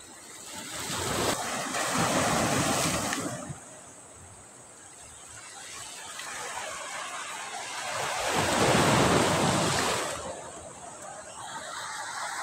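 Sea waves at Irama beach in Bachok, breaking and washing ashore in slow surges with gusty wind noise across the microphone, loud swells rising and falling over several seconds.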